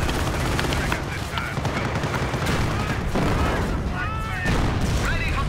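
Dense, continuous machine-gun and rifle fire with occasional booms from World War II combat in Company of Heroes: Opposing Fronts, loud and sustained throughout with voices shouting over the battle.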